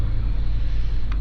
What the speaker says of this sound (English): Now we're getting some cars.